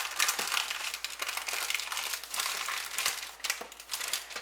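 Paper crinkling steadily as it is pulled down and folded over a roast butterflied leg of lamb, a close, continuous rustle and crunch with irregular louder crackles, no talking.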